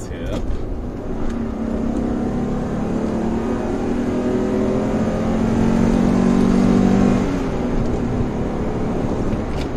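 An Alfa Romeo 33 engine revs steadily and loudly to heat the catalytic converter, its tone rising and holding for several seconds before dropping off.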